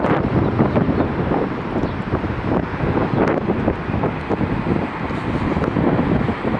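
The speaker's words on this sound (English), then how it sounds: "It's much more windy." Strong wind buffeting the microphone at an outdoor plane spotting spot near Dulles airport, a steady loud roar with gusty surges throughout and no talking.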